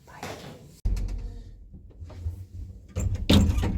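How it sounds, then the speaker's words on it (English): A door swings shut in a hotel corridor, giving one sharp thud near the start, followed by further bumps and handling noises. A heavier knock or clunk comes near the end of the clip. "Close the door."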